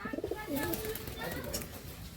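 Soft, low pigeon coos close by, a short throaty burbling call repeated against a quiet background at a pigeon loft.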